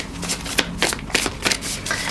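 Tarot cards are shuffled by hand in close, crisp riffling bursts, several quick rapid flurries back to back without talk.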